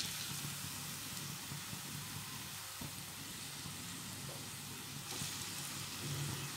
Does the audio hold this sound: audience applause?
no